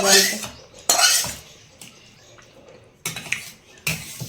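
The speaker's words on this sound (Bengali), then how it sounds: "এটা যে আলু পোস্তটা যেটা হয়ে গেছে এটা মা একটা জায়গাতে ঢেলে রাখছে" Aloo posto, potatoes in poppy seed paste, being scraped from a pan into a dish, with bursts of metal spoon clattering and scraping against cookware separated by quiet pauses.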